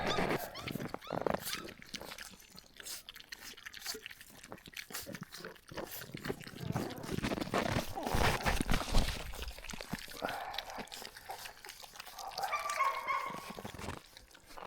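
Wet puppies in a litter whimper softly amid rustling and handling noise from their bedding, with a thin, higher whine rising near the end.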